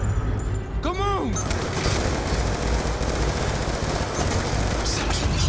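Turret gunfire in Call of Duty: Black Ops 2, a dense continuous burst of rapid shots and booms filling the whole stretch, loud and close, with a sweeping whine near the start.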